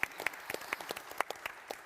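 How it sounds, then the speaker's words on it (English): Applause at a conference plenary session is faint and sparse, with a handful of distinct, fairly regular claps sounding from a small or distant group. "Let's give him a round of applause for that."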